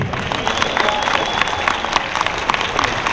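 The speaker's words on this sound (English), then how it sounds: "Big round of applause" Applause from a convention crowd at an opening ceremony for a guest of honor, a dense, steady wash of many hands clapping throughout, fairly loud and close with a faint murmur of voices mixed in.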